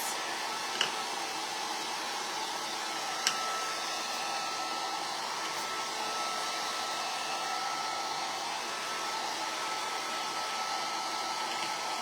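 A hair dryer blowing steadily on a donut backer, a loud constant whooshing hiss close by, with a couple of faint clicks near the start.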